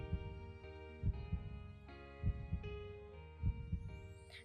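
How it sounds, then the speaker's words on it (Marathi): Racing heartbeat, a rapid run of deep thumping pulses in quick pairs over a low hum, close and muffled with no other sounds. "तिच्या छातीची धडधड प्रचंड वाढली"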